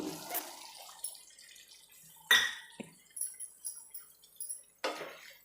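Small splashes and drips of water poured into a pot of masala peanut and bottle gourd gravy, a few separate pours and trickles with quiet gaps between.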